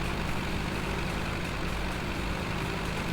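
A tractor engine in Farming Simulator drones loud and steady, a constant low rumble with no breaks.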